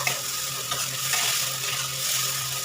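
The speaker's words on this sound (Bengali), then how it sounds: "এটা আমি একটু ভালো করে ভেজে নেব" Small hilsa fish sizzles steadily in a hot pan, fried ahead of being mashed into bharta, with faint stirring scrapes under the constant crackle and no voices.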